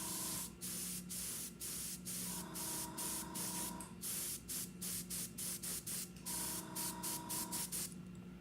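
A spray gun hisses in repeated bursts, some long and some short, close up with brief pauses between passes.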